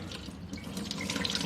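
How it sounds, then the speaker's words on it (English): Tap water runs steadily into a bowl of rice being rinsed, a continuous close splashing and gurgling with small drips, no voices. "Then you will have to put a little bit of water in it again"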